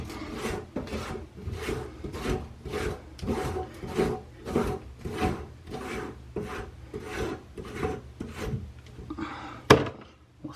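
A kitchen sink basket strainer's metal nut being unscrewed and spun off under the sink, a rhythmic series of about a dozen close, loud rasping scrapes, ending with a brief metallic clink.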